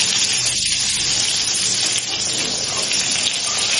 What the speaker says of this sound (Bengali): আবার বৃষ্টি শুরু হয়েছে